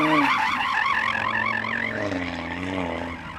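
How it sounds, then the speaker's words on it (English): Audi RS3 spinning and sliding its tyres to warm them before a drag race, giving a wavering, warbling squeal over a steady engine drone that rises and dips throughout. "warm up your tyres and try to slide if you can"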